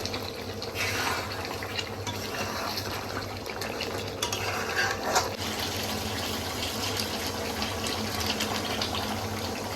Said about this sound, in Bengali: এবার এর মধ্যে দিয়ে দেবো গরম জল